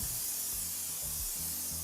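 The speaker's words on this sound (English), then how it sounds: "I'm gonna hit this with a little cooking spray." Cooking spray hisses from an aerosol can onto a baking dish for a casserole, a steady close-up spray lasting under two seconds with no pauses.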